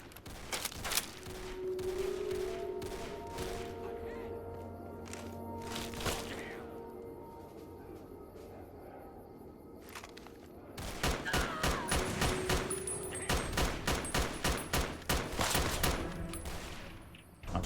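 Gunfire in the Fallout: Tale of Two Wastelands video game: scattered shots at first, then a rapid, dense volley of cracking reports over a steady ambient hum.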